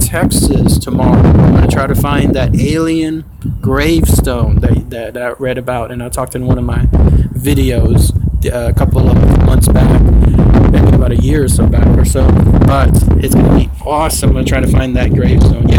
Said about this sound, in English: I'm sorry, it's very windy out here.